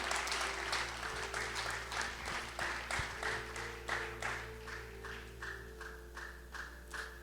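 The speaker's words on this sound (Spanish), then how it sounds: "Vamos a aplaudir al Señor en esta hermosa noche" A church congregation claps in a rhythmic, slightly uneven beat during an evening service, moderately quiet over a steady low hum.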